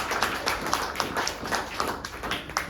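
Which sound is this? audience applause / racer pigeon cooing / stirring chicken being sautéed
audience applause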